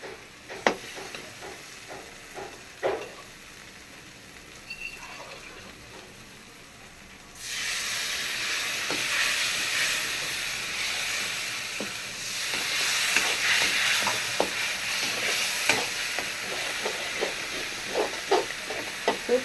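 Mutton masala with tomato sizzles and fries loudly in a pan after a quieter opening with scattered stirring clicks, the steady hiss swelling midway while utensil taps continue over it.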